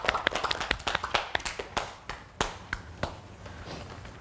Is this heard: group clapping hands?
yes